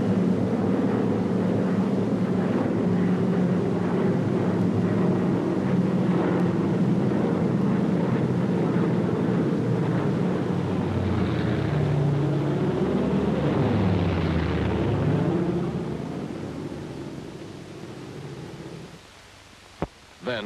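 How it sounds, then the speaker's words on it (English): WWII American bombers and transport aircraft drone steadily overhead on a supply-drop run over a Chinese garrison, a loud continuous engine roar that shifts in pitch as they pass and then fades. "American bombers and transports dropped supplies to the Chinese garrison by parachute."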